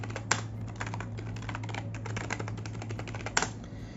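Someone types a root password on a computer keyboard while installing Arch Linux, with rapid, steady clicks running throughout and a couple of sharper, louder key strikes, close up with no talking.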